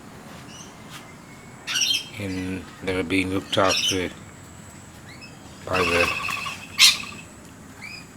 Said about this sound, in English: rainbow lorikeets, this is a new flock